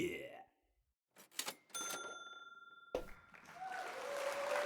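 Sound effects play back in turn: a short metallic cash-register cha-ching ring with bell tones, then a bright burst of recorded applause that swells and keeps going, both fairly clear with no talk over them.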